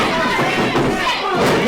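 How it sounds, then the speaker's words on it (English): Crowd at a wrestling match, a steady roar of cheering and chatter from many voices filling the arena, loud and continuous with slight swells, no distinct single voice standing out. "The crowd seems to be really in this. A split crowd here tonight."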